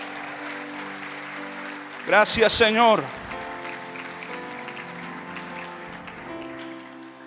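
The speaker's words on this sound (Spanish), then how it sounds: "Denle un aplauso fuerte al Señor." Church congregation during a sermon at a large worship event, applauding in a burst of steady clapping that rises under someone speaking over a microphone, then fades as music continues.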